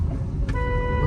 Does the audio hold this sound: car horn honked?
yes